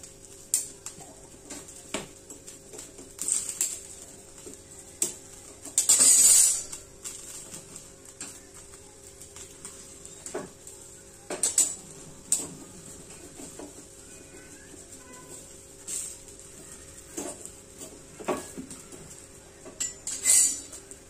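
Whole brinjals roasting over a gas flame are turned now and then, producing faint, scattered metallic clinks and taps over a quiet background.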